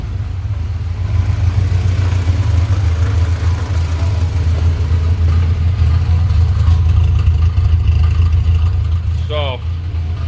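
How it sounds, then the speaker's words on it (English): A 1989 Dodge Raider engine idles steadily at around 800 to 900 RPM, a continuous low rumble that stays even and close throughout, with a brief faint chirp near the end. "It idles great"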